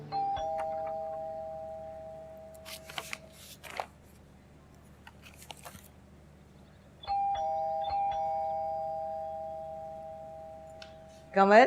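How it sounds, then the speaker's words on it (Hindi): A doorbell rings in a home during a domestic drama scene, sounding as a sustained two-tone chime twice, with a pause and some rustling between the rings, then a voice begins at the very end. "इतनी देर से दरवाजे पे घंटी बज रही है, सुनाई नहीं दे रहा?"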